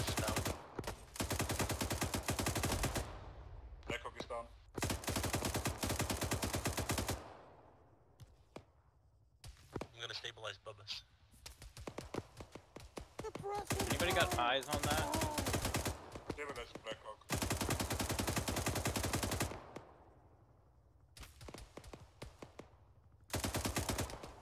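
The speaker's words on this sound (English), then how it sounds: "Suppressing fire!" Sustained bursts of automatic suppressing gunfire in the military shooter Arma 3, loud and close, coming in long sustained volleys broken by shorter gaps and scattered single shots, with voices talking in places between bursts.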